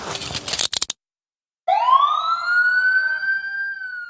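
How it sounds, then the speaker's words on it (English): After a burst of noise and a short silence, a loud siren starts with a single rising wail that holds high and steady. "Soon 2 ambulances arrived, one for Alfonzo and one for Officer Bose"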